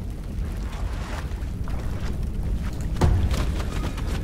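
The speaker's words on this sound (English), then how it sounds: "I had no idea that they explode." A creature bursts apart in the strategy game Massive Chalice, a sudden close boom landing partway through over a low, rumbling battle-ambience bed that stays dense and loud throughout.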